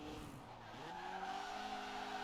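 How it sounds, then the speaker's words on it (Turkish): A BMW M3 pulls a handbrake skid in Forza Horizon 4, with sustained, shifting tire squeal over engine sound for a couple of seconds and no voices. "Ha şurada güzel bir el freni çekilir."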